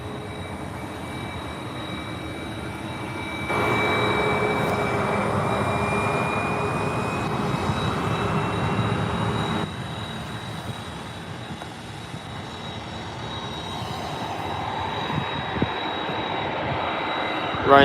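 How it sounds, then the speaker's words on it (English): A Ryanair Boeing 737 jet departing Birmingham airport gives a steady, broad engine roar with a thin high whine, holding at moderate loudness and then easing slightly at a distance. "Ryanair 737 heading over to Faro"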